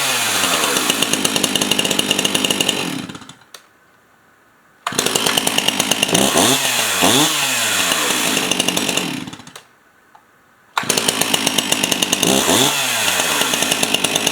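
A chainsaw runs at full throttle in three long loud bursts separated by short drops to near silence, with the revs rising and falling within each burst, close by and with no talk.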